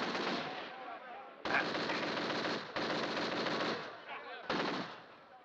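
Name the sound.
gunfire in a western film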